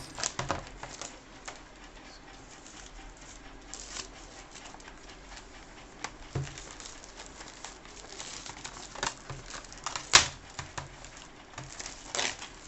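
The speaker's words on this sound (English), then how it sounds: "So we had the satisfying peeling noise." Protective plastic film being peeled by hand off a blue hardshell plastic case for a MacBook Air M1, giving a faint, steady crinkling rustle with a few sharper crackles, close up, with no talking.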